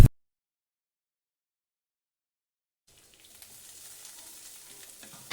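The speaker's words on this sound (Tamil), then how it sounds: "நம்ம கட் பண்ணி வச்சுருந்த வெங்காயத்தை போட்டுட்டு நல்லா வதக்குங்க" Chopped onions sautéing in a pan: after a long silent gap, a faint, steady sizzle starts up close and continues to the end.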